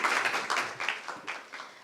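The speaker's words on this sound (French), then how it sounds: "On l'applaudit très fort" Applause from the audience for a contestant at a regional final of a sales excellence competition, a dense, steady wash of clapping heard close and fairly loud, fading slightly toward the end.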